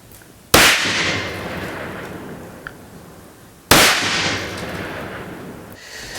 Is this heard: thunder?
no